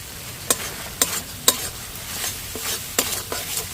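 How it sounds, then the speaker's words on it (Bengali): Spices such as Kashmiri chilli powder and turmeric fry with a little water in a pan for a vegetarian potato dum, giving a soft sizzle under regular sharp scrapes of a spoon stirring, roughly every half second, close and quiet. "মশলা সামান্য জল দিয়ে মশলাটা ভালো করে কষিয়ে নেব।"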